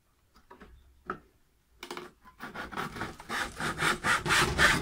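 A hand saw cutting through a wooden crate: a few scattered taps and scrapes first, then steady back-and-forth rasping strokes building in loudness, close up and without talk.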